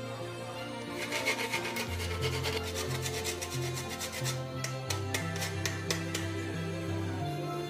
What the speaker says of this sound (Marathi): ह्याच्यामध्ये आपल्याला थोडंसं जायफळ किसायचं आहे बारीक किसणीवर